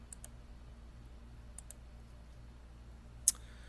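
A computer mouse clicks in video editing software, a few sharp, separate clicks spread over a quiet room tone, ending with one louder click near the end.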